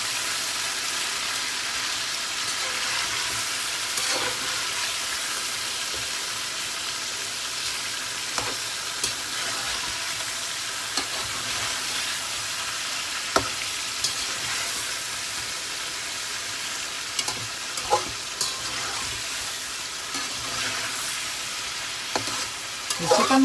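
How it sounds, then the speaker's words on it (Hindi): Chicken sizzles steadily in hot oil in a karahi for a Lahori-style chicken karahi, with a constant broad frying hiss, occasional clicks and scrapes of a stirring spoon, and no talking. "चिकन नूं असी कोई तकरीबन 5 मिनट लिए ईच साइड के उत्ते फ्राई करांगे"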